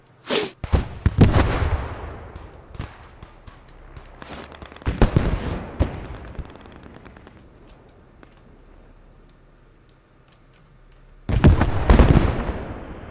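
Explosions and gunfire boom and crack through a World War II game battle, with mortars falling and something shooting at exploding soldiers; loud bursts open and close the stretch, with quieter rumbling and scattered shots in between.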